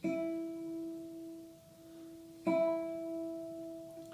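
Two single notes plucked on a classical guitar's first string with the index finger, each ringing out clearly and decaying slowly, the second struck about halfway through; quiet and isolated.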